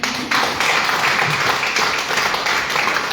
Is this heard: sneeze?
no